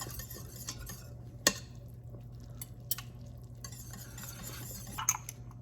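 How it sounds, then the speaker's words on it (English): Gravy being stirred in an Instant Pot, with soft, intermittent scraping and occasional sharp clinks of a utensil against the pot, close and fairly quiet over a low steady hum, with no talking. "And then just keep stirring and adjusting for the thickness."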